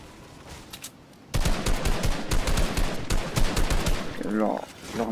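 Rapid gunfire bursts ring out in a battle royale duo arena match, dense and loud for several seconds after a quiet start, with a voice briefly heard near the end.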